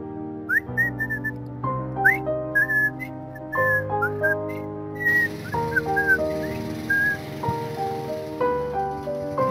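A man whistles a cheerful melody while riding a motorcycle at night, the whistling steady and upbeat over a layered musical accompaniment, with no clear engine noise beneath it.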